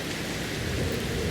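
Steady heavy rain pours in the Fallout: London game world, a dense continuous hiss close around the listener with a low rumble beneath, no voices over it.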